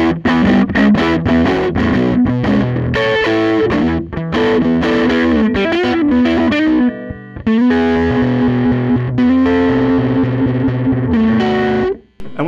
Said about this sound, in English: position number 5, the neck pickup all by itself